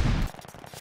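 In Call of Duty Vanguard gameplay, an STG assault rifle fires a short, loud, close burst that cuts off abruptly, followed by fainter rapid reports and echoes.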